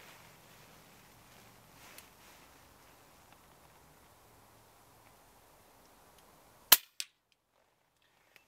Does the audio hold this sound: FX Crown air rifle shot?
yes